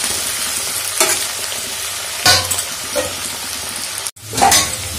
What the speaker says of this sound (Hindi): धीरे धीरे बीच बीच में चलाते रहना ताकि आलू और मेरे जो डंठल है वो बना जाए अच्छी तरीके से